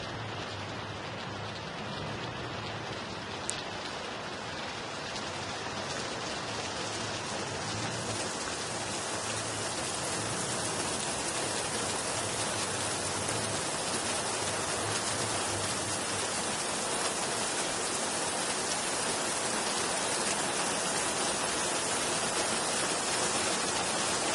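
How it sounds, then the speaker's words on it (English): A real rain recording for building a thunderstorm: dense, steady hiss of rainfall over a continuous wash of broadband noise, even and loud throughout with no voices. "of course this is a real rain sample, so it sounds realistic"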